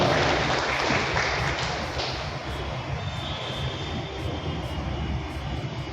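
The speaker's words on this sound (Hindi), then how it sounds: "आप लोगों से कहूँगा तालियों से इनका स्वागत करें शफीर अंसारी साहब" A seated audience at a foundation event breaks into sustained applause to welcome a guest, a dense continuous wash of clapping that stays loud throughout with a faint steady tone underneath.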